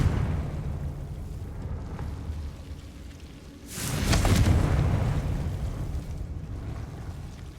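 A Confringo spell explosion in Hogwarts Legacy erupts midway as a sudden loud burst that swells into a rumbling, crackling blast and slowly fades over ambient game sound.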